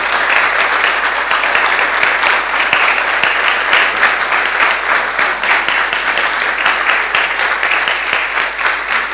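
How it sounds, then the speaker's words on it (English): Loud, dense audience applause fills a hall at a political address about the Catalan independence referendum, sustained and steady throughout with no speech over it. "And I think for this he deserves an applause."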